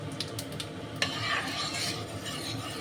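Five-spice seeds tempering in hot oil for a vegetarian bottle gourd curry, a dense steady sizzle with a sharp crackling burst about a second in, close and alone without talk.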